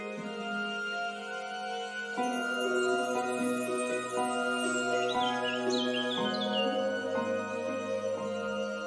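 Small birds chirp and twitter faintly over soft, sustained ambient music in a children's guided meditation, with a brief run of quick high tweets in the middle and no talking.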